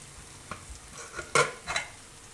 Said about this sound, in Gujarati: તો આને આપણે આ રીતે મિક્સ કરી દેવું, હલાવી લેવાનું.